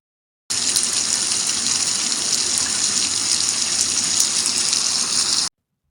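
Steady rain falling, a dense, even hiss of drops that stays loud and constant for about five seconds, with nothing else heard.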